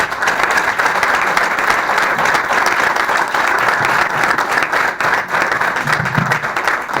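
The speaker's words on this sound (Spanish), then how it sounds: "yo pediría un nuevo aplauso para todos los disertantes" An audience at a constitutional reform anniversary lecture in Chubut applauds the panel of speakers, a dense, steady round of many hands clapping that stays loud and even for the full stretch.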